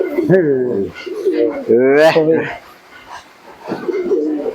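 Giribaz pigeons coo close by in a series of throaty, wavering calls, with loud bursts near the start and middle and a quieter stretch toward the end.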